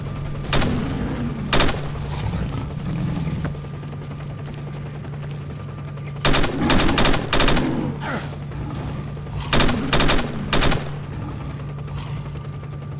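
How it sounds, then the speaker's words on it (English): A SIG rifle fires in the STALKER video game, loosing bursts of sharp, loud shots in clusters. Brief pauses fall between the volleys, with some mechanical clatter in the background. "I do like the sound of the SIG."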